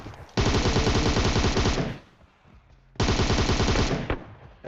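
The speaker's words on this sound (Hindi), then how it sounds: "मैं टोमी गन दोबारा उठाता हूँ और आगे बढ़ता हूँ" Bursts of Tommy gun fire from PUBG Mobile, two long rapid-fire volleys with a short gap between them, loud and close, with no talk over them.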